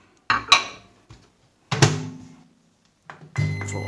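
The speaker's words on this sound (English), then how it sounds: "put it in the microwave" A few hollow clunks and knocks as a bowl of porridge is set into a microwave and its door handled, separated by brief silences.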